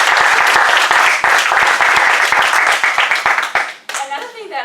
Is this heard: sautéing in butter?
no